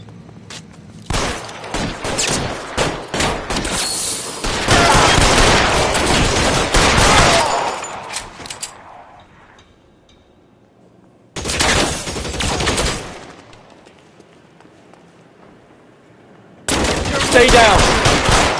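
Gunfire in the L.A. Noire video game, loud bursts of rapid machine-gun and rifle shots in several separate volleys with silent gaps between, close and intense.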